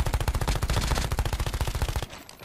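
Rapid machine-gun fire in Call of Duty Mobile, loud and close, with a steady fast burst that stops abruptly near the end.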